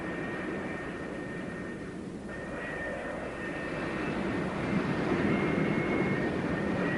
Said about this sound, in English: another pair of Phantoms taxis up for launch.